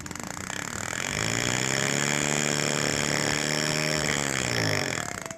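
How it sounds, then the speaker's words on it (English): A hammer handpiece for jewelry riveting starts up and runs as a buzzing, vibrating motor whine that ramps up, holds steady for a few seconds, then winds down, close and loud with no talking. "I do most of my riveting with a hammer hand piece. And so I'm just going to start the tool."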